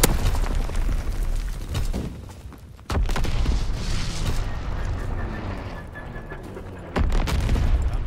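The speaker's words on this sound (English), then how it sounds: "Sending mortar rounds." Mortar rounds exploding in Call of Duty WWII amid constant battle noise, with two sharp, heavy booms a few seconds apart cutting through the ongoing roar and crackle of gunfire.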